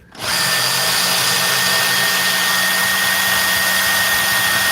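A power drill spins up quickly and runs at a constant, loud, steady whine close by for several seconds, alone without any voices.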